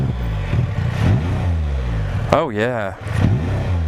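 A Can-Am Spyder motorcycle engine that is down a cylinder and missing is revved close up, with a lumpy, uneven idle and throttle blips, while someone speaks briefly over it.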